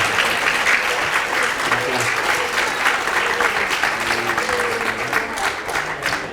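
An audience applauds at a concert hall event with steady, dense clapping that holds throughout, moderately loud and sustained with no pauses.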